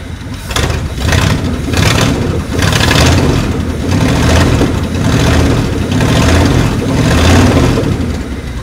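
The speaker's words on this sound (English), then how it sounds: "Let's give it a couple revs." Shed-found V8 Mercury Comet, revived after sitting 31 years, revs loudly several times in succession from a steady idle, each throttle blip rising and falling close to the microphone.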